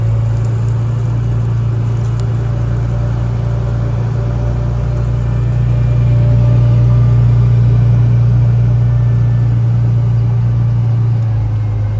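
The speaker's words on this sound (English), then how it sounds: "So you are riding in an original Amphicar." An original 1960s German Amphicar drives across a lake, its engine running in a steady, loud, close drone with a low rumble throughout and no talk.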